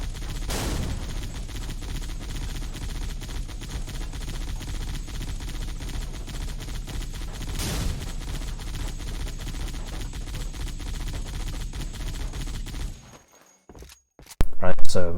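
Sustained automatic fire from a LEGO turret in a Halo 3 mod, a steady loud rattling stream with two heavier bursts, stopping briefly before a final loud clatter; someone talks over it.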